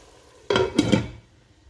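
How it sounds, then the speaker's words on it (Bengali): Mrigal fish pieces slide into a hot pan of spices for a fish bhuna, giving a sudden clatter and a short burst of sizzling that lasts about a second before fading. "কিছুটা মাছের কল্লা হয়ে যাক, তো আস্তে আস্তে আমি মাছগুলো দিলাম।"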